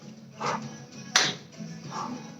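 A single sharp hand clap lands midway through a balance exercise class, standing out crisply over a quiet room with soft shuffling and faint background sound before and after.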